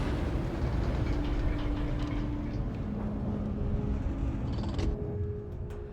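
Gringotts mine cart wagons rolling along rails in the Hogwarts Legacy video game, a steady, loud rumbling with a few sharper clacks near the end, heard alone without talk.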